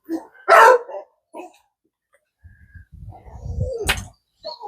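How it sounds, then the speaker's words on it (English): Dogs bark outdoors at a sluice cleanup site: one loud burst near the start, then a couple of quieter barks, followed by rumbling water and handling noise. "I don't know what these dogs deal with."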